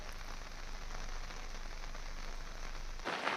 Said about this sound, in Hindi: पिछले 5 दिनों से नैनीताल में लगातार बारिश हो रही है